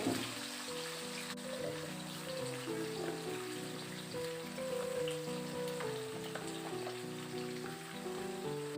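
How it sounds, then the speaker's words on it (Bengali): Mixed vegetables tipped into hot oil tempered with panch phoron in a kadai for a Bengali niramish chorchori, giving a steady, close, continuous sizzle under background music, with no talking. "এবার আমি দিয়ে দিচ্ছি কেটে রাখা সবজিগুলোকে তো আমি এই তেলের মধ্যে সব সবজিগুলোকে দিয়ে দেবো"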